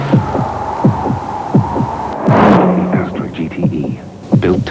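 A thumping heartbeat sound effect beats steadily and loud for a car advert for the Astra GTE with an 1800 fuel-injected engine, five or six double thuds in even rhythm, with a brief whooshing swell midway.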